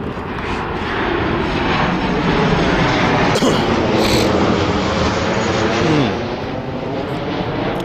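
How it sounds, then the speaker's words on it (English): Low-flying airplane passing overhead outdoors in Manchester, a loud sustained engine roar that builds, holds with a sweeping pitch shift, then eases off; voices talk faintly underneath. "That plane looks kind of lower than it is."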